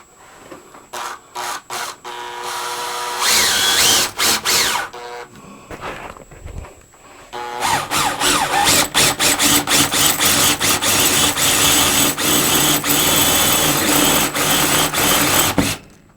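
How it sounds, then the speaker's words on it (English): A drill bores a hole into the metal blower housing of a furnace, with bursts of loud grinding and whirring broken by short pauses, then a longer sustained run of rattling, stuttering drilling close by. "So let's get on it and drill our hole."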